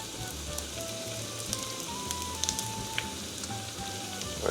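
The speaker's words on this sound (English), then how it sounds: "Nice sizzle that's coming out from the pan right now." Korean corn dogs sizzle in hot oil in a pan, a steady close crackle with scattered pops and spits running the whole time.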